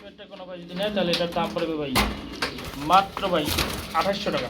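Pigeons of a Danish-type colour variety coo in soft, repeated bursts close by, with a brief thump partway through and no one speaking.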